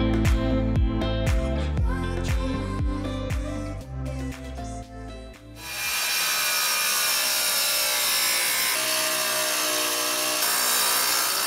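Hand saw cutting through a wood board for a DIY bathroom build, a fast rhythmic run of close, loud back-and-forth strokes for several seconds, then a steady rasping hiss of sawing or rubbing that continues to the end.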